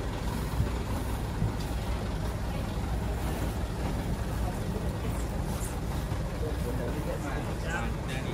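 A truck in a convoy of cattle transport trucks carrying large cows rumbles loudly and steadily on the road, with voices talking over the continuous engine and road noise.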